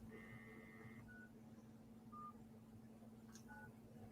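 Phone line being set up with a few short, faint electronic keypad tones, separate beeps spaced across a quiet low hum.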